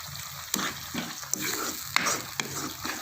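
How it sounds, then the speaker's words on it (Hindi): Tomato masala with whole green chillies frying in a pan, a steady close sizzle broken by regular stirring scrapes about every half second. "इसको हम तकरीबन 2-3 मिनट जो है वो फ्राई करते हैं।"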